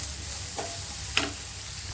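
A spoon stirs dal in a pan with red chili powder, green chili and garam masala. Two brief scraping strokes cut through a soft, steady sizzle, close and quiet, with no talking.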